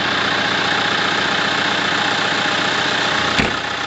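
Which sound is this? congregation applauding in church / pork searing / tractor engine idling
tractor engine idling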